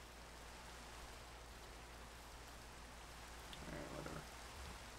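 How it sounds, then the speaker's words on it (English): Steady rain hisses evenly throughout in a Minecraft-style survival game world, a continuous soft wash with a slightly brighter patter near the end and no talking. "He got in the rain."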